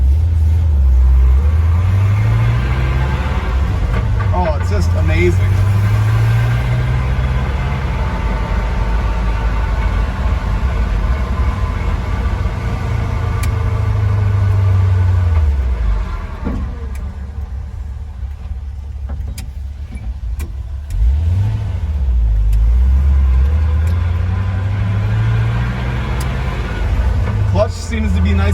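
A car with an NV3500 manual transmission drives along, its engine rumbling loudly and rising and falling through gear shifts, with a brief quieter dip partway through, while someone talks over it.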